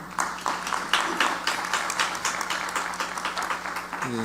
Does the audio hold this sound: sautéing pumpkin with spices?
no